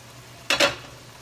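Ground pork and beef for Kapampangan giniling get stirred in a frying pan: two quick, close scraping strokes with a short sizzle, then quiet kitchen background, no talking.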